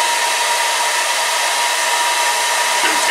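A handheld hair dryer blows heated air into an indoor hot air balloon bag, a steady, loud whooshing roar that runs unbroken throughout with no voices.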